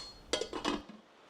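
A spoon stirring sugar into a pot of boiling Ottoman sherbet, with a quick cluster of soft metallic clinks and scrapes lasting under a second against a faint background hiss.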